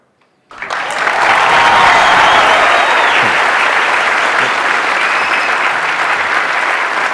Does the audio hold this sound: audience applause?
yes